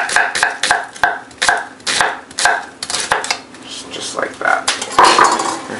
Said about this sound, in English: just kind of just quick run through with your knife